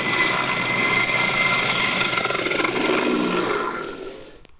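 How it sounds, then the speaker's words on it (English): A Mil Mi-26 helicopter roars loudly and steadily with a heavy rotor and engine whine, holding for several seconds before fading off near the end. "Are you curious about what is this MIL Mi-26 helicopter doing"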